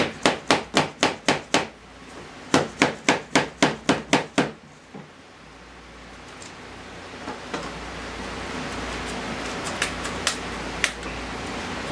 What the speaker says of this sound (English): See if I can tap that one just a little more.